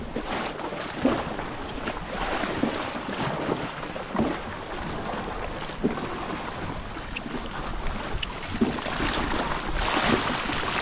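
A small Filipino bangka motors past on open water, its low engine drone blending with steady wind buffeting the microphone and faint water wash throughout.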